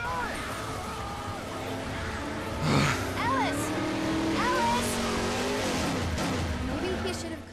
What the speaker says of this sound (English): Get in the goddamn car, people.